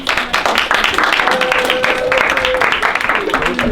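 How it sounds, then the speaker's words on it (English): A high school math class applauds a student, dense clapping mixed with murmuring voices for a few seconds. "Let's give Alicia a round of applause."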